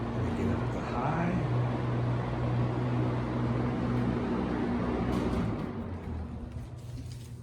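Early-1970s Superlectric Model 2072 box fan running on its high setting, a steady broadband whoosh with a low motor hum that holds evenly throughout, dropping slightly near the end.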